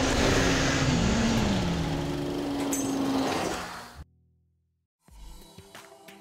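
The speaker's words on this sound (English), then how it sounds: "when you step on it, full throttle, powering down the trail, powering around corners, it just sings" A 225-horsepower Polaris RZR Pro R four-cylinder side-by-side at full throttle on a trail, a loud buzzing engine roar with wavering pitch that fades and cuts off near the end, followed by a brief gap and some clattering.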